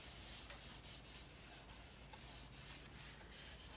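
Glued paper being rubbed by hand onto a book cover makes a continuous, soft scuffing and brushing sound with faint rhythmic strokes, close and quiet.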